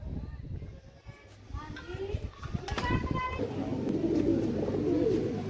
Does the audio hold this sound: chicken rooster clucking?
no